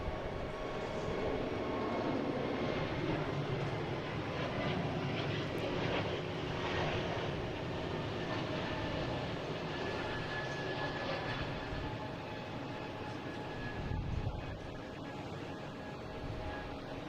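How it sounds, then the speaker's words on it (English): A Porter Airlines plane bound for Toronto rumbles steadily at a moderate distance, a sustained engine roar with a faint whine that swells slightly midway and tapers off. "Here's Porter heading to Toronto."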